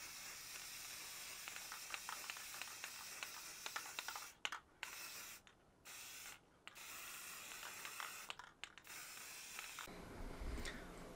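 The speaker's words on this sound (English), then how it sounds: "we're going to take these outside now and hit them with some lacquer paint to seal up this print" Lacquer paint sprayed onto custom drumsticks outdoors, heard as hissing aerosol bursts that start and stop in several short and long sprays, ending with a rumbling shift.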